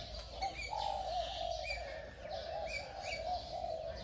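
Caged birds, including pigeons or doves, fill an aviary with steady chirps and soft coos, a continuous mix of overlapping calls at moderate distance with no talking.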